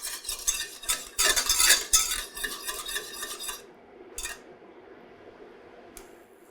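A whisk swished through milk in a pan to clean it, making quick wet scraping and clattering strokes against the metal that fade to quiet with a final faint tap.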